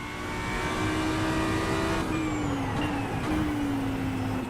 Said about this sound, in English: You could hear the traction control interfering again.